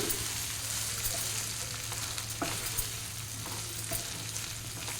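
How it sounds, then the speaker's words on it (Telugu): A spoon mixes a hot tempering through cooked rice and lentils for pulagam, a festival offering. It makes a continuous dense hiss and a low hum, with faint soft scrapes throughout and no speech. "తాలింపు అంతా అన్నానికి బాగా కలిసేటట్టు బాగా కలుపుకోవాలి"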